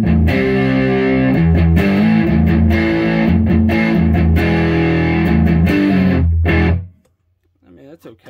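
A heavily distorted electric guitar through a Stax ODrive-11 Tube Screamer clone overdrive pedal with all controls maxed plays thick, loud chords for several seconds, then cuts off, leaving a quiet moment and a faint voice.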